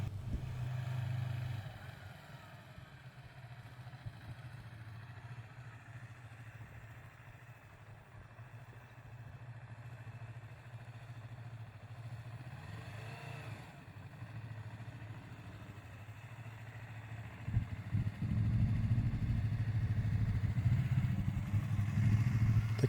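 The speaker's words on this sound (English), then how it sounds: "Today we're going to have a look at cone weaving on the motorbike." A motorcycle weaving slowly through cones on a training course hums as a low steady engine note at a distance, rising louder and nearer toward the end.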